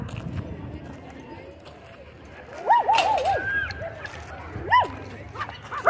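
At a dog park, a dog lets out a short run of barks and yips in the middle distance over quiet outdoor ambience, with a voice speaking softly nearby.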